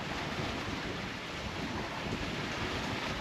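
Ocean waves wash and hiss around a moving sailboat while wind rumbles across the microphone, a steady, close, noisy wash with no voices.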